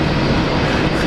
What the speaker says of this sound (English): Jetstar Dreamliner